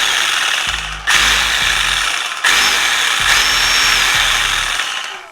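A FLEX one-hand cordless reciprocating saw cuts in loud, close bursts, its motor droning steadily with two brief pauses before restarting, no talking over it.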